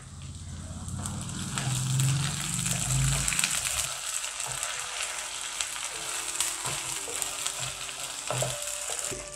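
Ginger garlic paste frying with onions in a pan for meal maker biryani, a moderate steady sizzle with a low rumble early on and occasional light scrapes and clinks.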